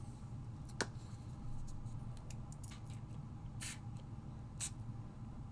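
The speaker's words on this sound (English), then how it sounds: "So we're just spraying." Short spurts of aerosol spray paint, Candy Apple Red and then Noble Fir, hiss in a few separate bursts over a steady low background hum.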